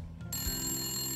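A telephone rings in the point-and-click video game Randal's Monday. A soft, sustained electronic ring starts after a short quiet moment and holds steady at low volume.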